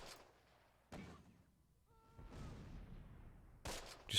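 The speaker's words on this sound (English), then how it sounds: "Right, MG's opening up." A machine gun fires in the Close Combat World War II game during the Operation Lüttich campaign, with short, thumping bursts at irregular intervals against quiet gaps, sounding somewhat distant.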